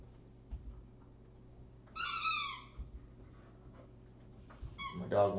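A pet dog lets out two high, squeaky whines, one at mid-clip and a shorter one near the end, over a quiet room hum.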